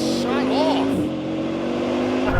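A Bugatti Chiron Super Sport hypercar accelerates hard, its loud engine drone climbing in pitch as it shoots away, with excited voices and shouting over it.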